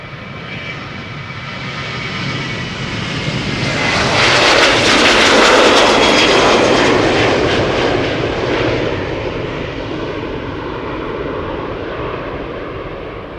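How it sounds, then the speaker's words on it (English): A seven-year-old Transavia passenger jet, registration PH-HXE, on flight 6001 to Porto. Engine roar swells steadily to a loud peak around the middle, then fades away, with no speech. "Next up is Transavia Flight 6001 to Porto in Portugal."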